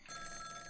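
In the Ghost Trick game, a telephone rings quietly with a steady electronic trill, one short ring on its own and no voices.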